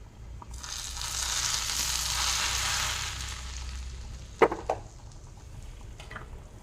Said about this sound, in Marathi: यात थोडी जिरे घातले मी फोडणीमध्ये मस्त अशी तुपाची फोडणी देऊ आपण